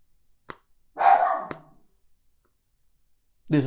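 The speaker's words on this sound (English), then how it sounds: "dog better shut his fucking mouth" A single dog gives one short, mid-pitched bark, fairly close and loud, with a couple of sharp clicks around it and near silence in between, and another bark starting just at the end.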